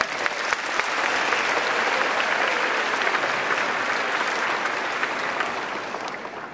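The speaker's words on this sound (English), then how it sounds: "Please give yourselves a round of applause." Sustained applause from a large crowd at a college fund graduation event, steady clapping that swells and holds for several seconds before easing slightly at the end.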